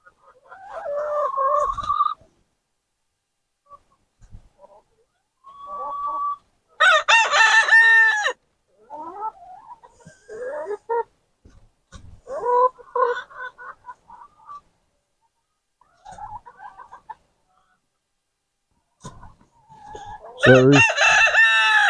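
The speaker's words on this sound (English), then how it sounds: "That rooster right there is mean." A rooster crows loudly several times, close by, with clucking hens and scattered farmyard noises between the calls, in a snowy yard.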